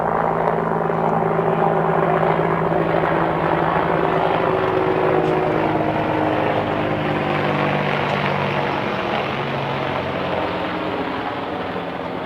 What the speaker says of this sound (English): That there's an Apache, boys.